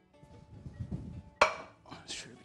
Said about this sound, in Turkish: Tenceremizi kaldıralım.